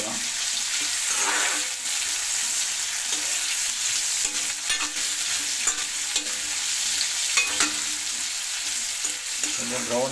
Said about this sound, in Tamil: இப்போ இது வதங்கட்டும்.